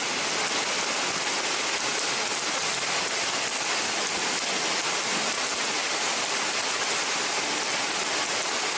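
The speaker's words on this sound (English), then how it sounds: "this rain came down and cooled it off" Steady, dense rain pours down through a summer storm where horses are kept, a continuous broadband hiss with no pauses and no voices.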